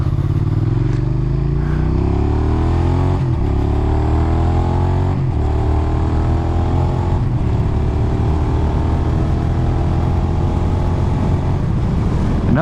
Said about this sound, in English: Another thing about this motor is that it revs up really high too